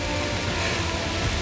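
Heavy rain shower driven by wind during stormy weather in France, a steady dense broadband wash of falling rain and gusts with no break and no voices.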